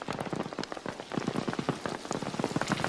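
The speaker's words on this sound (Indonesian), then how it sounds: "Tiba-tiba hujan turun dan mereka sudah sampai di salah satu kota." Steady rain falls in a film scene, a dense, continuous patter of drops striking surfaces, loud and close for the whole stretch, with no voices.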